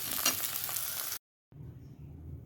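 Beetroot, carrot, potato and tomato curry with green chillies sizzles steadily in a pan, a loud broadband hiss that cuts out abruptly for a moment before resuming more quietly.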